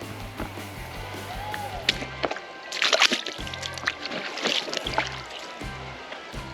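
A foot splashes into shallow creek water while walking a streambed, with a few sloshing splashes near and loud amid rushing water and some rustle.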